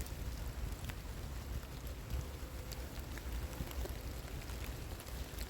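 Steady rain falls in a dense, continuous hiss with occasional sharper drops, and a low rumble beneath.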